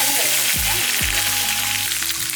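Curry leaves hiss into hot oil with a handful of peppercorns for a pepper kuzhambu, a steady, loud close-up sizzle with a couple of quick bursts as the leaves drop in.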